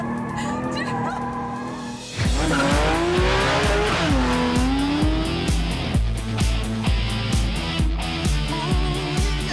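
A race car slides around a track, tires squealing in a long wavering howl over the loud engine, then the motor settles into a rhythmic pulsing drone as it carries on.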